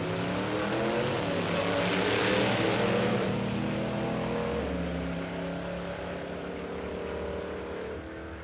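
A Willys drag car with a supercharged Hemi engine roars past at a dragway, loud and rising to a peak before its droning tone drops and fades into the distance.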